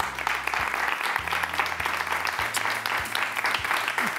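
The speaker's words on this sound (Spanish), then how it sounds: "Un aplauso muy grande para Andrea Sarto y para María Pilar Arroyos" A studio audience on a Spanish television show breaks into sustained applause, dense and steady throughout, with faint musical tones running underneath.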